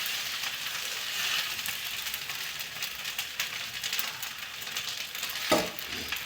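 Tur (pigeon pea) beans frying with tomato and curry leaves, a steady soft sizzle running throughout with a brief sharper clink of a utensil near the end.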